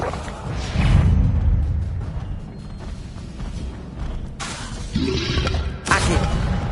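Incendio fire spell being cast in the video game Hogwarts Legacy: loud whooshing bursts with heavy low thuds, over a dense background of game effects, repeating in surges.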